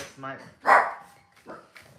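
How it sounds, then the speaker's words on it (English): A pet dog barks indoors in a few short yips and one louder bark, close by and loud, reacting to someone at the door; a person is talking nearby. "That's my dog."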